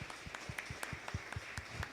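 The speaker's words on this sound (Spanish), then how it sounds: "un aplauso al Señor esta mañana." Church congregation claps in a steady, regular rhythm during a service, soft and slightly distant, with crisp evenly spaced claps about four per second.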